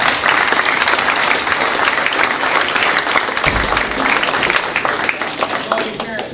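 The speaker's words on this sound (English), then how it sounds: "I think we need to give our parents a round of applause" Sustained loud applause from a crowd of parents, families and students at a high school National Signing Day ceremony in Franklin, dense and steady throughout with a brief low thump midway.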